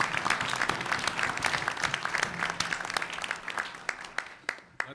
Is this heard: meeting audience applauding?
yes